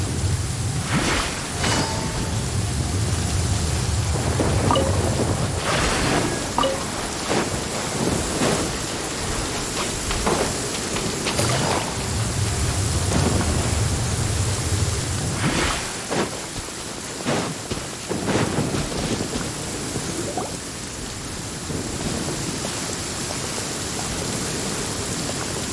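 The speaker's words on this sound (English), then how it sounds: "It's raining again?" Steady rain with rolling rumbles of thunder in the video game Genshin Impact, a continuous dense wash of rainfall with several low thunder swells and crackles throughout, no talking.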